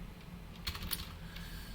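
Keystrokes on a computer keyboard while entering an ID during a JavaScript and jQuery coding lesson, a short cluster of a few quick clicks in the middle over a quiet room hum.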